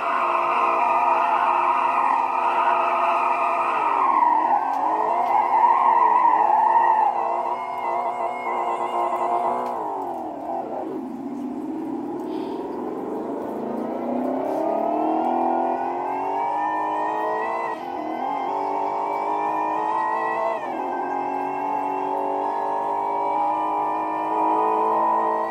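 A Dodge Viper driving on roads in southwest Florida, its engine droning loudly and continuously while it rises and falls in pitch through gear changes and accelerations.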